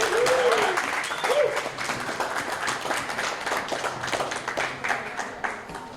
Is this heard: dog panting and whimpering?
no